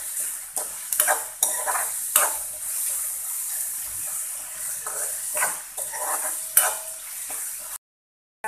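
Onion for an egg dish sautés in a pan, giving a soft continuous sizzle broken by repeated scraping stirs of a spoon, close and fairly loud, ending in a sudden cut to silence.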